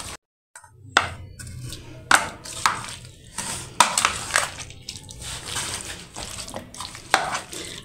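Spoon stirring a creamy Russian fruit chaat with chaat masala in a bowl, giving repeated wet clinks and squelchy scrapes in an uneven rhythm, close and fairly loud with no talk.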